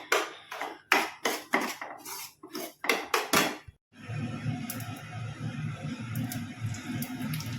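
Semolina roasts in plenty of ghee in a pan: a run of sharp spoon-on-pan clanks gives way to a steady, soft frying hiss with light scraping, heard up close.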